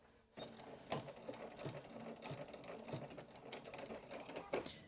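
Sewing machine stitching back over a previous seam line on a vest, a close continuous mechanical whir with small ticking clicks and no talking.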